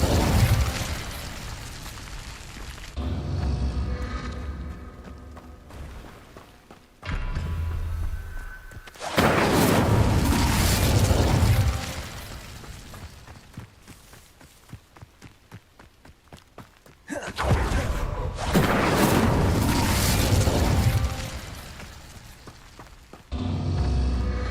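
Fire spells cast in a Hogwarts Legacy battle, heard as loud bursts of whooshing flame and impacts that come in several long, dense waves amid game effects and footstep-like thuds.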